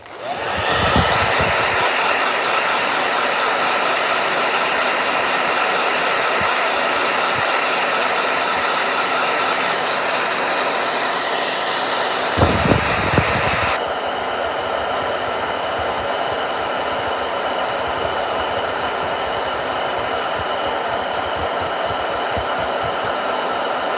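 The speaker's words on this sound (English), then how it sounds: "Blow dryer." A blow dryer runs close and loud in an art studio, a steady airy whir that holds for the whole stretch and shifts tone once partway through, with no voices.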